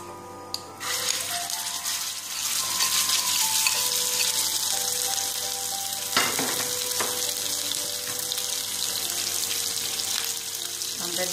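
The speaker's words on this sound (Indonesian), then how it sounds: "Apinya udah panas, kita masukin daging ayamnya, kita tumis" Chicken meat drops into a hot pan and stir-fries for kimchi dumpling filling, a sudden loud sizzle that settles into steady crackling hiss with occasional scraping and stirring clatter, no talk over it.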